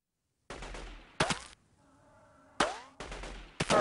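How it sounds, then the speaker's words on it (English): Gunfire in the video game Delta Force 2 comes in sharp bursts of rapid shots, several separate volleys with short ringing pauses between, loud and close with no talk. "Where am I being shot from?"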